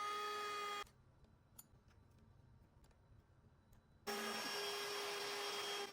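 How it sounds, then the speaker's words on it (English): A Shapeoko 4 CNC machine makes a flattening pass over an old, scratched wooden cutting board, giving a loud, steady spindle whine with a high tone that cuts off for a few seconds of quiet ticking, then starts again. "decided to go ahead and go for a flattening pass with the CNC"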